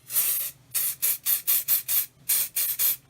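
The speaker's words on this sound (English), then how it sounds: "So I'm just going to spray in here." A hand pump spray bottle misting into a freshly washed pot for fluid art, about ten quick hissing bursts in close succession, loud and near, each separated by a brief gap, no talk.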